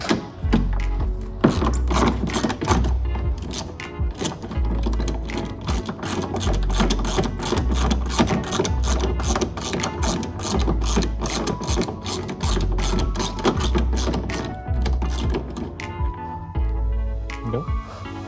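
Mechanical ratcheting from a tool working a bolt loose on the rear bumper cover of a 2009-2017 Mitsubishi Lancer: fast, steady, close clicking bursts that run almost without pause, over a low background hum.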